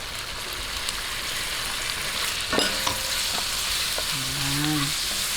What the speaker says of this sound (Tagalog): ilalagay na po natin tong ating ham. Ayan. Sagusahin lang po natin. Sabay na po natin tong ating bacon.